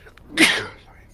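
One sharp, breathy sneeze close to the listener, a quick burst that fades in under a second.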